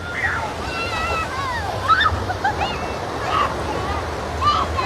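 Ocean water sloshing and slapping against a seawall at Waikiki, Hawaii, as the tide comes in, a steady churning wash with intermittent splashes, under wind noise and faint background voices.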